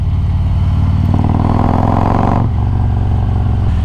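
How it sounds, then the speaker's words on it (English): A 2020 Harley-Davidson Road Glide Special fitted with a 128-inch big bore kit pulls hard under throttle, its loud, deep engine note climbing in pitch, then dropping as a gear shift arrives and the rumble continues. "You hit the throttle and the thing just friggin' pulls."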